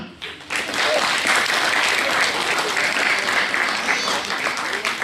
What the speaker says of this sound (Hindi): इतनी कम तालियां।